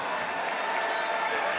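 A crowd at a wrestling event in Philadelphia applauds for wrestler Helen Maroulis in a dense, steady wash of clapping and cheering, with an announcer's voice over it.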